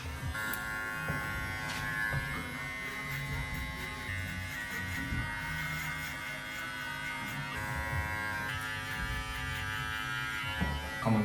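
Electric hair clippers, lever closed to a zero setting, buzz steadily and close up while cutting a guideline below the temple for a buzzcut skin fade in a barber studio, a continuous whine with slight shifts in pitch.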